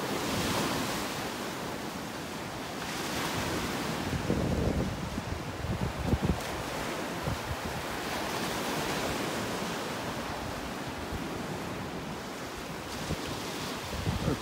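Ocean surf rolls and breaks along the beach at Delnor-Wiggins Pass State Park, a broad continuous wash of waves with gusts of wind buffeting the microphone, steady and fairly loud with no talking.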